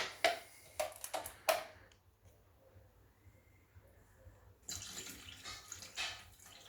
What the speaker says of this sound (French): On va rajouter les 150 g d'eau.